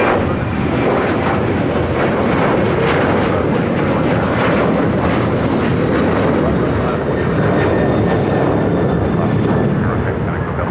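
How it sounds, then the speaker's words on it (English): An Alaska Airlines Boeing 737-900ER jet taking off at LAX toward Manzanillo, a loud continuous engine roar holding steady throughout, with people talking underneath. "This is Alaska Airlines 1406 taking off to Manzanillo on a 737-900ER"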